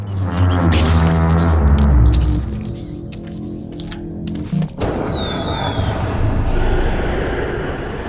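Fireworks go off in the video game Shadows of the Damned, with deep rumbling booms giving way to crackling bursts and whistling streaks, loud and layered over a dense background.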